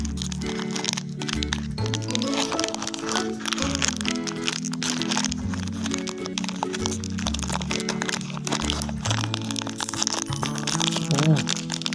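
Crinkling and crackling of the wrapper as a pack of chocolate-covered almond dates is opened, repeated crunchy rustles heard under steady background music and a voice.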